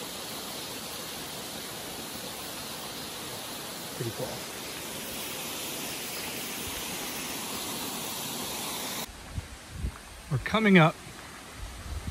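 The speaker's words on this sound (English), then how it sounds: "We're on our way to the one famously called David's Waterfall." David's Waterfall in the Holy Land, a steady broadband roar of falling water that fills most of the scene, then cuts to a quieter outdoor setting where someone speaks briefly.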